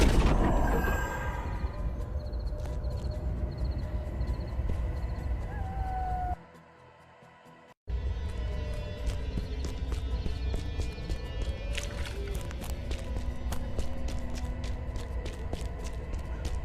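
Horse galloping in the video game Achilles: Legend Untold, with rhythmic hoofbeats running continuously over game ambience and music, broken by a brief near-silent gap partway through.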